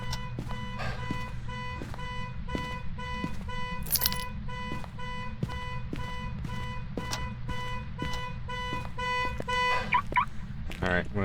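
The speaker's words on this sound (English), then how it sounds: "And now we have the garage with that annoying car alarm" A car alarm in a garage in Phasmophobia's Tanglewood house blares a steady, pulsing electronic tone. Repeated rapid beeps continue loud and unbroken throughout, with a brief higher chirp partway through and another near the end.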